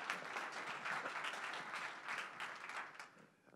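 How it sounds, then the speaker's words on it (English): Audience applause fills a tech startup pitch night at Atlanta Tech Village, a steady wash of many clapping hands that stays fairly soft and distant before thinning out at the end. "quick thanks and a round of applause for all the other presenters"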